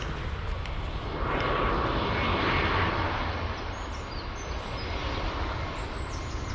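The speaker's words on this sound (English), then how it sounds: "Airplane." An airplane flies overhead along the Camino Primitivo near Santiago, a broad continuous engine roar swelling and slowly fading, heard alone without talk.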